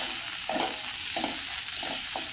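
Coriander and Malvani masala sauté in a pan for masala rice from leftover rice, a low steady sizzle with four evenly spaced scraping stirs of a spatula, close and without talk.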